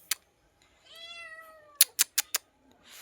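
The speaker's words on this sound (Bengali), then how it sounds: "আরও 2-3টে বিড়াল আছে।" A nearby cat lets out one drawn-out meow, followed by a quick series of four sharp clicks or taps and a faint trailing sound, in an otherwise quiet room.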